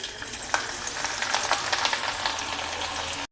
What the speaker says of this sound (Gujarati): તેલ ગરમ થઈ ગયું છે તો આપણે ભાજીનો વઘાર કરશું। તો ભાજીનો વઘાર આપણે લસણથી જ કરશું